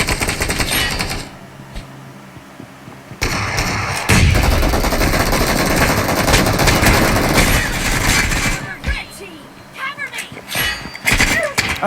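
Rapid automatic gunfire and thumping shots from a Free Fire room match on mobile come in bursts that shift between quieter and louder stretches, with game effects and talk mixed in.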